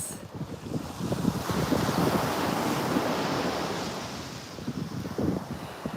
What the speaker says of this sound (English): I hope you can tell the contrast between how windy it sounds in and out of our little protected cubby here.